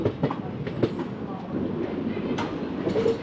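The Simhadri Express, a passenger train, rolls along the tracks between Samarlakota and Nidadavolu, giving a continuous rumbling clatter heard from on board, with light rhythmic clicks over a steady low roar.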